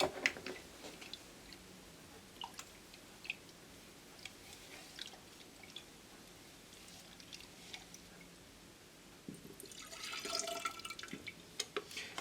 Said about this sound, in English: you take your ink and just pour the ink into the glass